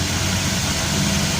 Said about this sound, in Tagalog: misfire graphic dito kasi nanginginig yung makina